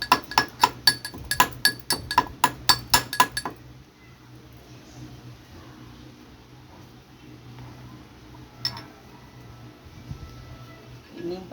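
Neem leaf juice and turmeric being stirred in a glass: a rapid run of bright, sharp clinks of spoon against glass in the first few seconds, then quiet handling with one faint later tap.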